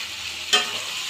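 Cauliflower and potato hit a spiced pan to fry, giving one short, sharp sizzle burst that fades into a faint simmer, close and brief with no talk.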